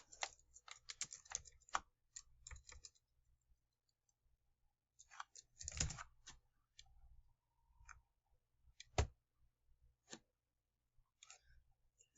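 Typing on a computer keyboard comes as quiet, scattered clusters of key clicks with pauses between bursts, close and faint over near silence.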